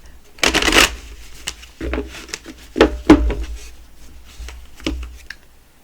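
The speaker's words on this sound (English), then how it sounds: "So we're going to shuffle a couple more times." A tarot deck being shuffled by hand, with riffling bursts and softer sliding and tapping of cards, in separate close, crisp bursts with short pauses between them and no talk.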